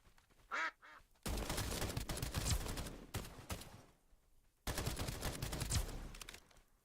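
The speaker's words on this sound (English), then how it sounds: "Heard someone quack." Ducks quacking in the video game Escape from Duckov, a brief pair of nasal quacks at the start, then two long bursts of loud rapid gunfire that swamp everything.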